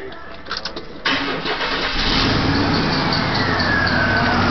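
A 1993 two-wheel-drive Chevy truck's 4.3 V6, freshly reinstalled, cranks briefly and then catches, settling into a steady, loud idle close by with a slight exhaust manifold leak.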